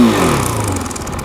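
A stock-exhaust 2023 KTM RC390 single-cylinder motorcycle engine revs up close and loud, a short sharp rise in pitch that settles into a steady buzzing hum.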